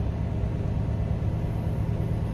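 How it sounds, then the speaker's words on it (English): A truck engine rumbles loudly and steadily at close range as it revs up ahead of a burnout, a constant low drone filling the whole stretch. "You hear the engine, the speed of the engine raising up here."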